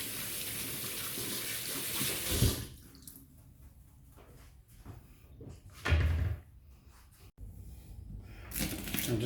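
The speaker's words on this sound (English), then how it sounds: "Give your hands a wash." Running tap water splashes over hands at a kitchen sink while cooking, with bursts of louder rinsing and quieter trickling stretches, close and alone.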